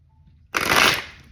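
A deck of tarot cards being riffled and shuffled, one quick, close, crisp rush of flapping cards after a brief quiet moment, with no talking.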